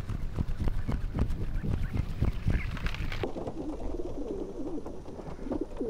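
A flurry of wingbeats and fluttering bursts as released pigeons take off together, followed by soft cooing and rustling from nearby pigeons.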